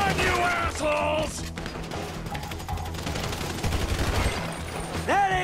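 Rapid gunfire in a Grand Theft Auto V shootout against Merryweather attackers inside a home, bursts of shots crackling steadily over game music and shouted voices throughout.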